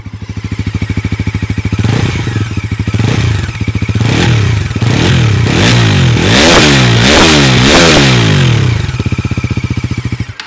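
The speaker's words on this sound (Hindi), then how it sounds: "तो ये है नई पल्सर NS 400Z का एग्जॉस्ट नोट" A Bajaj Pulsar NS400Z motorcycle idles close by with a fast, even exhaust pulse, then is revved repeatedly in rising and falling sweeps, loud and throaty, before settling back to idle and cutting off.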